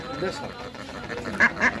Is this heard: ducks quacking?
yes